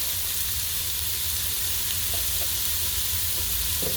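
Steady sizzling of food sautéing in an Emeril Lagasse Pressure AirFryer while making black-eyed peas and collard greens, a constant close hiss with a few faint clicks and no talk.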